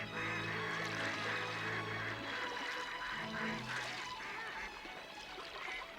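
Ducks call out in the wild with loud, nasal honking cries that overlap in a continuous chorus, fairly close and slightly fading near the end.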